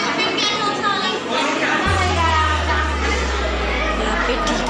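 Crowd chatter and children's voices at a decorated Kali temple in Jorabat during Hanuman puja, a dense murmur of many people, then a loud low steady hum entering partway through.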